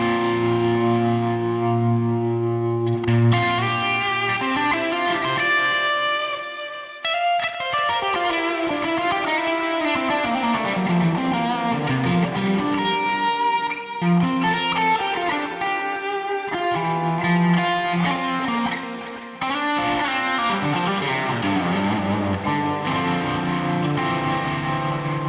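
Distorted electric guitar through a digital distortion plugin plays a sustained, thick chordal passage with shifting bends, loud and steady throughout, with no talking.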